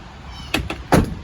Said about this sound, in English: my driver's side door on my truck and on my trailers, they open and close properly.